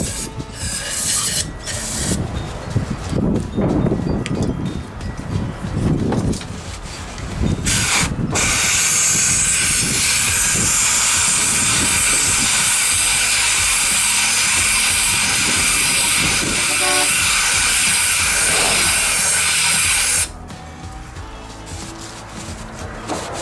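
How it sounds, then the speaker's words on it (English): Carburetor cleaner sprays in a long, loud, steady hiss into an engine's spark plug area, preceded by scraping and handling noises and ending abruptly. "I'm going to spray just a little bit more now"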